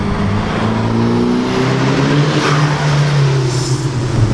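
A Nissan 180SX Sileighty with a 2-liter turbocharged engine pulls hard from inside the car, a loud, steady rising engine drone climbing through the revs for the whole stretch with no gear break.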